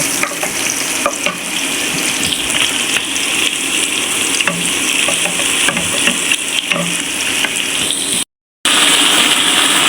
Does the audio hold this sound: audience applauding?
no